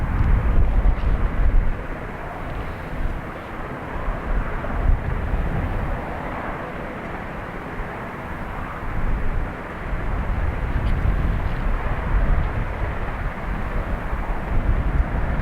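An Aer Lingus Airbus A321neo taking off from Dublin Airport for Philadelphia, a steady, distant low engine rumble with wind buffeting, fairly muted and sustained throughout.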